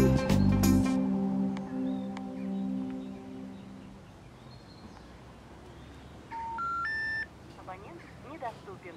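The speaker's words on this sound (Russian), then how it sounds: "Оставь сообщение после сигнала" A loud tone opens, then a phone voicemail system gives a short run of stepped electronic beeps near the end. A voice talks through the call.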